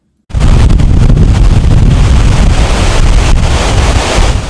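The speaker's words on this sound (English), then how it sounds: "It's easy to get caught up in the spectacle, the wind, the wreckage, the waves, the raw power of a storm like Hurricane Helene." Hurricane Helene storm: loud, steady roaring wind buffeting the microphone with crashing waves beneath, a dense continuous rush with no pauses.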